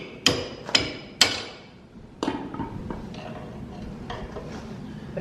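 A metal hammer taps a 1976 Citicar electric car brake drum to work it loose: three sharp close knocks, a pause, another strike, then faint light taps and scraping.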